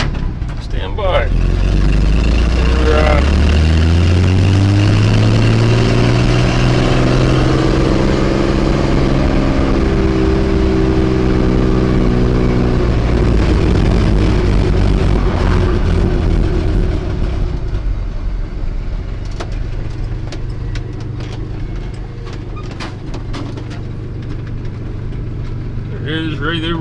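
A garden tractor engine running and revving while backing up, loud and close, its pitch climbing and falling before settling into a steady idle, with a few knocks near the end.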